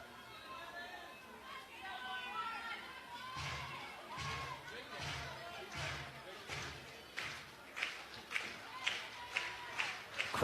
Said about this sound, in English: Crowd claps in unison.